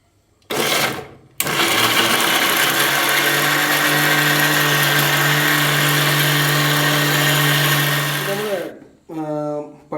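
Electric kitchen mixer grinding onion, tomato, garlic and ginger into a paste: a loud, steady whirring motor runs for about seven seconds, then winds down, with short bursts at the start and end.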